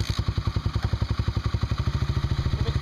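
A dirt bike engine running after a kick start, its rapid, steady thumping exhaust pulses loud and close with a clattering mechanical edge, idling evenly without revving.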